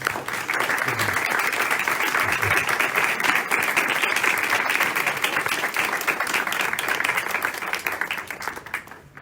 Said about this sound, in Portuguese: uma salva de palmas faz bem a coisa